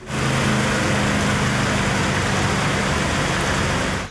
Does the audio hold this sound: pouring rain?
yes